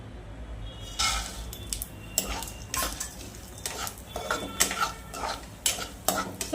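Seeds are roasted in ghee in a pan and stirred with a utensil, giving repeated scraping and rattling strokes over a soft sizzle, close by and with no talking.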